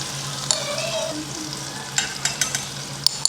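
Cumin, green chillies, curry leaves, asafoetida and tomato sizzle steadily in hot oil for a home-cooked fasting dish, with a few sharp clinks of a spoon against the pan late on.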